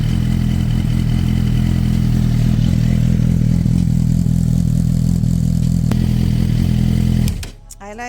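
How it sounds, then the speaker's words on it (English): Suzuki GSX-R motorcycle engine and muffler exhaust idling with a loud, steady low rumble for about seven seconds, then cut off abruptly, followed by brief clatter and near quiet. "once the build up is in the muffler, then you start hearing more sound out of it"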